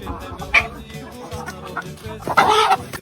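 A chicken clucks in a few short bursts, ending in a louder squawking cackle close by, with some background talk.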